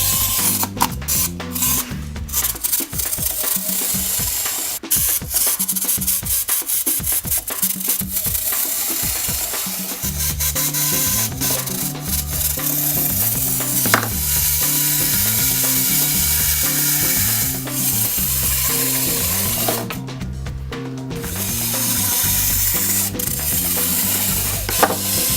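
A wind-up Penguins of Madagascar McDonald's Happy Meal wheel toy from 2014 gives a steady, rapid mechanical ratcheting whir, close and sustained, with only short breaks.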